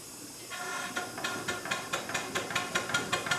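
Compressed air hisses open into a model Merlin locomobile engine that drives a forest saw. A steady broadband hiss starts suddenly, then a rhythm of sharp regular puffs builds as the engine begins turning, fairly close and without voices.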